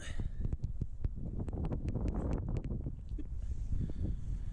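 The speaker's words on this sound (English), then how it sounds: "Trying to shield the wind" Gusty wind buffets an open microphone on a beach, a steady low roar with rustling bursts and a few sharp knocks throughout.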